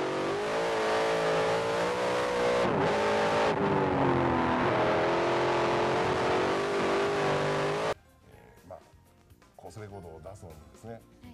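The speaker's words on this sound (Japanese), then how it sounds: "シボレー6リットルエンジンにムチが入りやす。" A Chevrolet 6-liter engine in the 1992 Donner-Dykstra race car roars and revs hard at the Pikes Peak hill climb start, pitch climbing as it accelerates, loud and close, then cuts off abruptly to quieter background noise.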